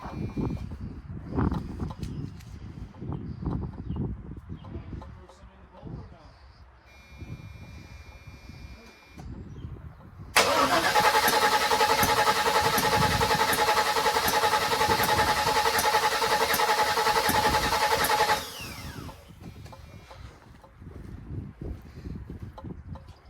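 A 1979 Chevrolet Malibu project car, with no fuel in it yet, cranks on its first start attempt. There is a steady, pulsing whir of about eight seconds, with voices and shuffling before and after.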